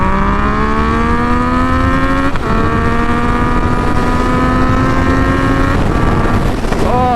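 A Yamaha FZ-09 motorcycle rides and revs with a loud, close engine note climbing steadily through the gears, each rise broken by brief shift dips, rolling on continuously without talk.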